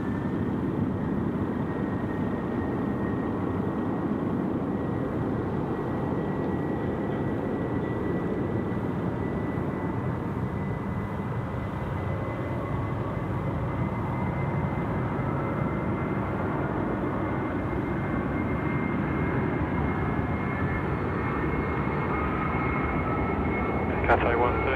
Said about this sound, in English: It's the A330 rolling 16 right.